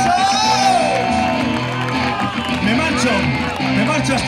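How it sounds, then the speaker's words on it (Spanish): A concert audience cheers and whoops for the lead guitarist of the band A68, a dense, sustained roar of shouts and voices filling the space. "¡Muchos aplausos!"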